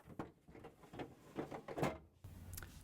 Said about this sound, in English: Reinstall the ice bucket assembly.